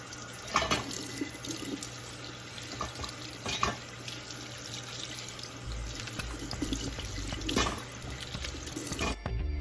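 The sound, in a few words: washing radishes under running tap water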